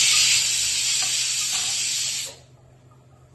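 Chopped onion hits hot oil in a pan for sweet potato thalipeeth, giving a loud, steady sizzle and hiss close by that fades abruptly to quiet after about two seconds.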